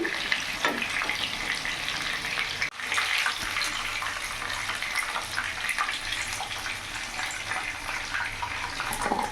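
Garlic chicken pieces sizzle and crackle steadily in a hot pan, cooked restaurant style and flipped partway. A dense, continuous frying hiss fills the whole stretch with a brief dip in the middle.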